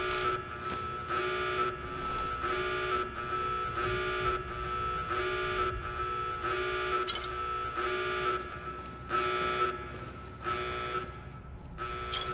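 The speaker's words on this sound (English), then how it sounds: "now I've got to listen to that alarm blare" An alarm blaring in the video game Fallout, a loud, repeating electronic buzz pulsing at a steady rhythm of roughly two per second, continuous for the whole stretch with no one speaking.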